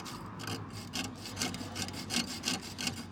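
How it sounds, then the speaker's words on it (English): Scraping carbon deposits off the tip of a refrigerator heat exchanger, a steady run of close, rhythmic rasping strokes with no talk. "you just see me scraping it all off."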